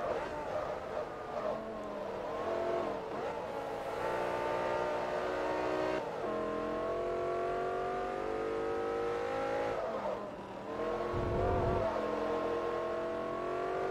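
A BMW's engine in the racing game Forza Motorsport 3, a continuous revving whine that climbs steadily through gears with short shift dips, loud and alone.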